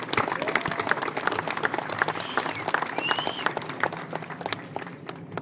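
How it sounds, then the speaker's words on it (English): A crowd applauds the landscaping designers at a memorial park opening. The clapping is loud and sustained, with many dense hand claps running steadily through the whole stretch. "Huge round of applause for the design."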